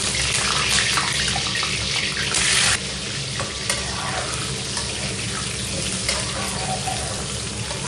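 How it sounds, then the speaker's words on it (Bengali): Potatoes fry in hot mustard oil in a wok, a loud, dense, continuous hiss and crackle heard close up with no voices. "আলুগুলো ভেজে নিব।"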